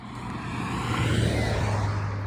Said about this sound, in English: Probably hard to hear over the car noise though.